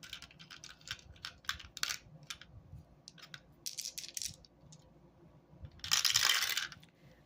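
Coins clink one after another as they drop into a savings container, a string of sharp metallic taps building to a brief jangling rush near the end.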